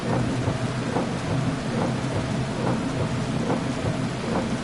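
Steady heavy rain with rolling thunder on a night rally stage in Dirt Rally 2.0, a dense continuous wash of loud rainfall with low rumbles throughout, no voices.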